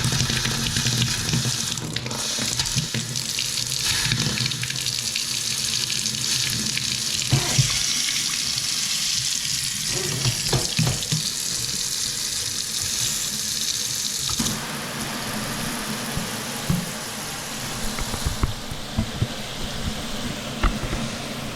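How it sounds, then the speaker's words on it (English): Water runs steadily from a newly installed kitchen faucet into the sink, a continuous loud splashing rush that changes character partway through as the flow or hot side shifts, with no talking. "And there's my faucet."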